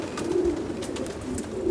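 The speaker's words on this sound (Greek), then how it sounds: "Πολύ γερά περιστέρια, μπράβο" Sturdy pigeons from the Santorini club coo in soft repeated low calls nearby, accompanied by faint rustling and flutter.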